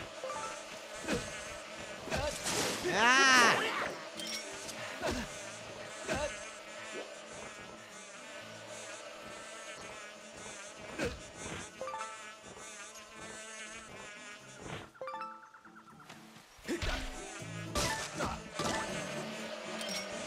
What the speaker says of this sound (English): the best way to deal with a swarm of angry bumblebees is to put them in your pockets